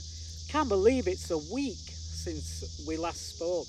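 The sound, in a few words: cicadas chirping outdoors in northern Arizona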